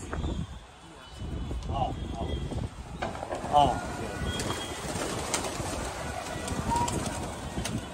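Domestic black Pakistani pigeons coo softly in their loft, low repeated throaty calls close by over a steady background hum, with someone talking intermittently.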